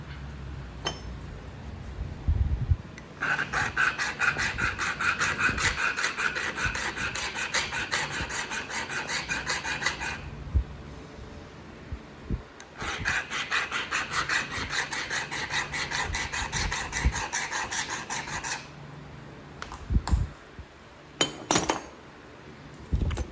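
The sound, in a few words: sharpening a flint-knapping tool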